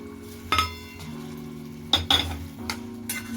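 A spoon scrapes and clinks in a pan as mashed eggplant is mixed with coriander for baingan bharta, with a few distinct metallic knocks over a low steady hum and no talking.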